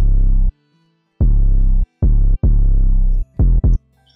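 An undistorted 808 bass from a Cymatics sample pack, EQ'd for a phonk beat, plays loud, deep, clean hits in an uneven rhythm, some long and some short, alone with nothing else.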